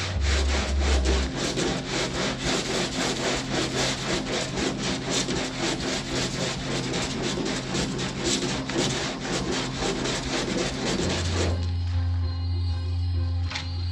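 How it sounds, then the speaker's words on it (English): Steady, loud abrasive rasping of wood being sanded by hand, a continuous rapid back-and-forth scratching that runs for most of the clip, then eases off. "I'm going to begin sanding on it"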